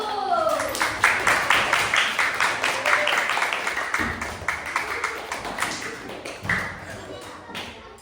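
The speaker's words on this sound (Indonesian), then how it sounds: "kasih tepuk tangan buat kelompok 1" A training-session group gives rhythmic patterned applause for group one, crisp unison claps repeating at a steady beat, loud and close, with a voice talking at the start and again near the end.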